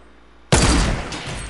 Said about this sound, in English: Oh, he's shooting at us now.